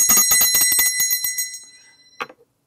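A small collectible bell, part of a collection alongside porcelain and pewter figurines, rings in a rapid cluster of bright metallic strikes that fade out, followed by one last isolated ding.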